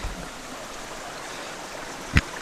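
A stream runs at a water crossing on a hiking trail in the Mt Sterling–Pretty Hollow Gap area, a soft, steady trickling rush, with one brief thump near the end.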